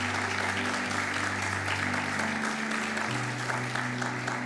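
Church congregation applauding during a Sunday service, steady dense clapping sustained throughout with a low organ or keyboard chord droning underneath.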